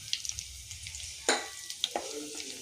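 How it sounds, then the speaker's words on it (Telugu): Mustard seeds and cumin frying in hot oil for tempering a raw banana curry, a soft steady sizzle broken by a few sharp pops and crackles, close by with no talk. "ఆవాలు జీలకర్రండి,"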